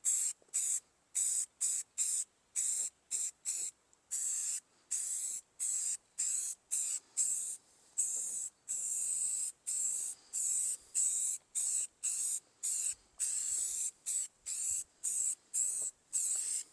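Rust-Oleum spray paint is applied as filler to a scratched F600 pickup truck bed in repeated short hissing bursts with brief gaps, close and steady throughout.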